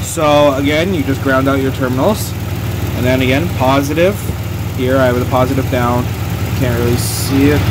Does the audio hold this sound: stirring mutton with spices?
no